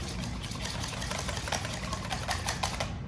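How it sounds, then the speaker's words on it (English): A whisk beats potato salad dressing made with pickle juice until smooth, a rapid, steady clatter of metal against a bowl, close and continuous with no talk. "Grab a whisk and whisk it until smooth."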